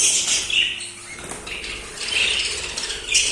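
Budgerigars in a breeding room give a busy chorus of high, rapid chirps and twitters that overlap continuously, with a few louder bursts standing out from the steady chatter.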